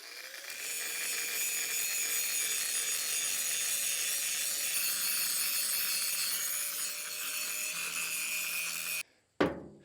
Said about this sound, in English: I'm just going to grind this down and make this one work.